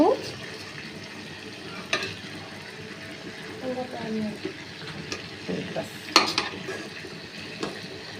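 Food frying in oil in a pan while a chicken roast is cooked, with a steady sizzle under occasional stirring scrapes and utensil knocks against the pan.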